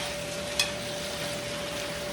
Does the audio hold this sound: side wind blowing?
no